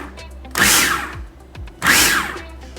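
A food processor pulses chickpeas into coarse falafel crumbles in two short bursts of loud whirring chop, with a brief quiet gap between them.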